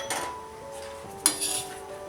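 A corn and fenugreek paratha is flipped on a pan over a low-to-medium gas flame, giving a couple of light metallic clinks and scrapes of a utensil against the pan, with a sharper knock near the end.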